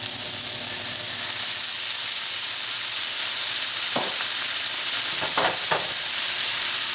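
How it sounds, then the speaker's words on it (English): White wine, two ounces, poured into a hot pan for a Caesar salad preparation, giving a steady loud sizzle and hiss with stirring, plus a few sharper bursts of spattering near the end, no voices. "And we finish with 2 ounces of white wine."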